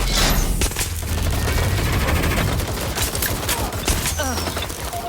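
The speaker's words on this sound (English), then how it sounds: "They're shooting at us!" Rapid volleys of gunfire from the video game Watch Dogs: Legion crackle in quick, uneven bursts over a dense, steady bed of game noise, loud and close throughout.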